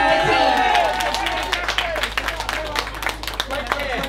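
Crowd applauds the winning Birmingham Shah Jalal team captain at an outdoor boat race event, the Great Nowka Dour 2017, with scattered claps rising out of a dense murmur of cheering and voices.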